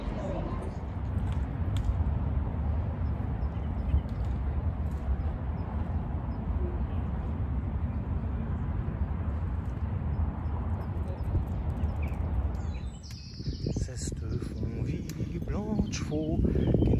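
Horses' hooves clip-clop steadily and loudly in a dense, continuous clatter, joined by occasional bird calls and a brief change in the surroundings near the end.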